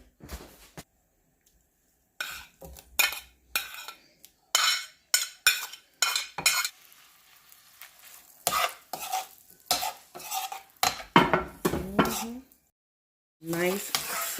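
A utensil scrapes and clinks against a pan while lifting out garlic pieces from sizzling garlic butter, in short irregular bursts with pauses, close and fairly loud.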